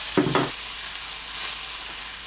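Cabbage fries in a hot pan with a steady, close sizzle; a brief louder burst of crackling comes at the start as it is turned, then the frying settles into a constant hiss.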